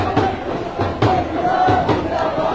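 A crowd at an opposition protest rally against the government, with a dense roar of many voices and scattered shouts, loud and continuous.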